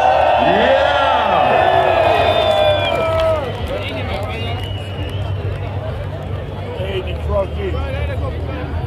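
A festival crowd of 40,000 at Parookaville, Airport Weeze, cheering and whooping, a broad distant roar mixed with scattered shouts, under a loud MC voice at the start that gives way to sustained crowd noise.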